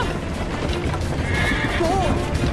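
A horse whinnies in an Assassin's Creed Liberation cutscene, its high neigh rising over a loud bed of clattering hooves and commotion as the rider is urged to flee.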